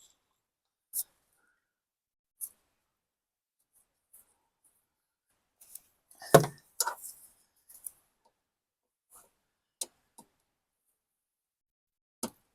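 A grease gun coupler snapping onto a zerk fitting on a golf cart, sparse sharp clicks spread through near-silence with a brief cluster of metallic handling noise in the middle, close and quiet.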